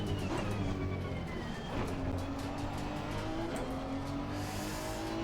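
Honda/Acura NSX race car in Assetto Corsa Competizione at the Zolder circuit, its engine screaming at high revs with rising and falling pitch as it shifts, a loud steady drone with brief tire squeal.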